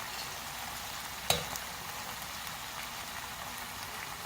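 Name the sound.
onion, potatoes and tomato frying in pan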